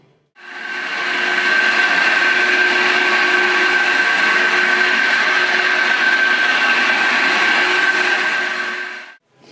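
A floor machine fitted with grit pads sands a scratched travertine floor, droning loudly and steadily with a high whine from start-up to shutdown, and nothing else heard.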